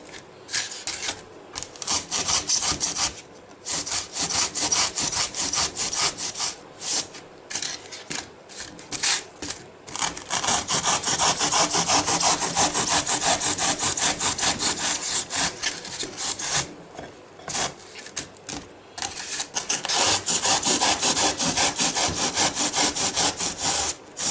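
A hot wand tool cuts through a polystyrene block while trimming out a letter, making a loud, continuous rough scraping and rubbing with short pauses between strokes.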